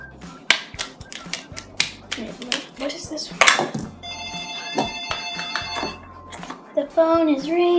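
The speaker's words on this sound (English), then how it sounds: "phone is ringing." Telephone ringing indoors, a bright electronic ring tone repeating in short bursts in the middle of the clip, under clattering and people talking.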